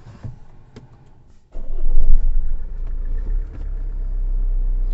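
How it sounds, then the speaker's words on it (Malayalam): A car engine cranks to life after a quiet interior moment, catching with a loud rumble that settles into a steady low idle, close and continuous to the end. "ഇപ്പം എൻജിൻ്റെ സൗണ്ട് കാണോ അത് വർക്കായിക്കൊണ്ടിരിക്കും"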